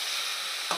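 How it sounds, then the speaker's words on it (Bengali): Egg and potato curry with meat masala sizzling and being stirred in a pan, a quiet continuous fry with one brief scrape of the spoon near the end. "এটার ভিতরে আমি একটু মিট মশলা দিয়ে দেব, দিয়ে এটাকে আমি একটু সুন্দর করে কষিয়ে নেব"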